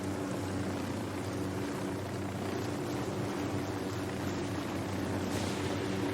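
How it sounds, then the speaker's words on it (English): Helicopter in the video game Ghost Recon: Wildlands, a steady loud rotor and engine drone holding throughout with a constant low throb and broad hiss, no talk over it. "Helicopter, get down."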